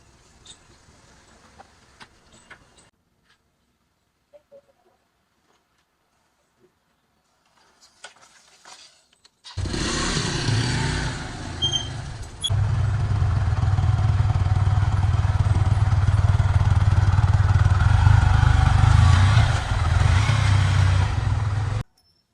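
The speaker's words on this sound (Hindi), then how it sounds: "तो गाइस कुछ इस तरीके से उतरती है हमारी बाइक्स" Motorcycles are rolled backward off a vehicle, with faint clicks and knocks at first, then a loud, steady engine rumble that starts suddenly and runs on close by.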